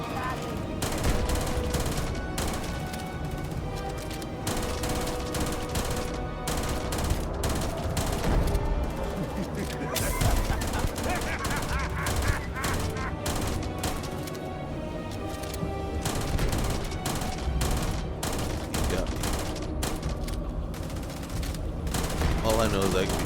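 Sustained gunfire in the Starfield space game during a fight with a Terramorph creature, dense automatic bursts and repeated cracks piling up loud and nearly nonstop, with voices speaking over the battle.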